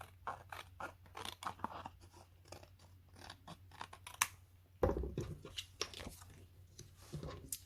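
Scissors snip through card for a handmade layered mountain landscape card, a close series of crisp, irregular cuts with small rustles of the card between them and a louder crunching slice midway, no speech.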